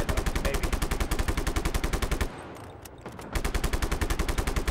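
Rapid automatic gunfire while shooting an enemy in the video game Just Cause 3: loud, evenly spaced bursts, a brief pause, then another sustained burst, with no talking.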